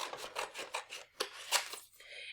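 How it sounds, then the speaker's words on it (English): Scissors cut a rectangle out of paper for a money jar craft: a close, quiet run of rhythmic snipping and rasping strokes, with a short pause and a softer rustle at the end. No speech. "Now I'm going to take my scissors and I'm going to cut that rectangle out, doing my best to stay on the lines."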